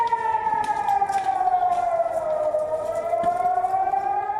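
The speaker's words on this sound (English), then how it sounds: "How do you sleep, work, study or shower when you are kept on your toes by blaring sirens?" Israeli air raid siren wailing steadily, a loud sustained tone with harmonics that slowly dips and begins to rise again, heard alone without voices.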